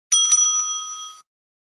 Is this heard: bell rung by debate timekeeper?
yes